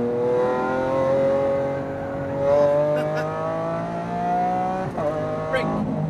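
Porsche GT2 RS or Lamborghini Aventador SVJ sports car accelerating hard on a track, engine note climbing steadily through several upshifts, loud and close throughout with a brief dip mid-run.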